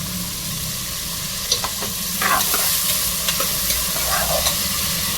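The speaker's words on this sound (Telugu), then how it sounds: "కట్ చేసుకున్న మూడు ఆనియన్స్ పెద్ద సైజ్ కరివేపాకు పచ్చిమిర్చి వీటిని బాగా ఫ్రై చేసుకోవాలి" Three large sliced onions with curry leaves and green chillies frying in hot oil, a steady loud sizzle with occasional scraping stirs of a spatula, close and continuous.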